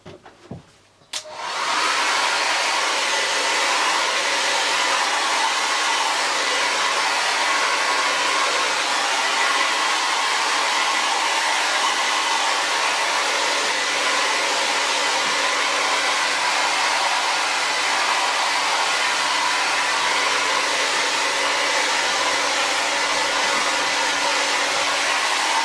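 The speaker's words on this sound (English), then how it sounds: "Quick blast with the hairdryer." A handheld hairdryer blasts steadily at paint and PVA glue on a mixed-media landscape painting, switching on after a brief click and roaring loud and unbroken for over twenty seconds.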